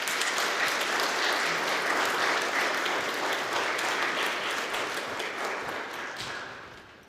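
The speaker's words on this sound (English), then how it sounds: "Let's give them a round of applause" A full room of churchgoers applauds in a thick, even wash of clapping that holds steady, then gradually fades away toward the end.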